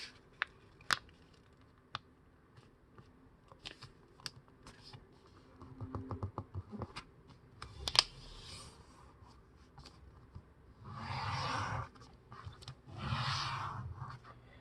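Paper being creased and folded into a long-distance paper airplane: sharp crisp taps and creases, then longer rustling and rubbing sweeps of the sheet, close and fairly quiet, with no talking.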